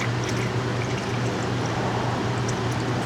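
Coolant pours into the cooling system of a BMW E46 330Ci with an M54 engine, a steady close trickling and gurgling liquid wash with a low hum beneath, continuous throughout.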